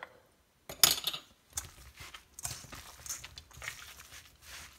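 Ground beef bulgogi being stirred together with its marinade in a bowl, with soft scraping, wet squelches and light utensil clinks coming in short irregular bursts, close and quiet.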